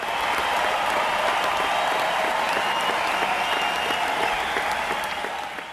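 Applause from a crowd used as a cheer effect in a QuaverMusic lesson, a steady dense clapping that holds for several seconds and then tapers slightly at the end.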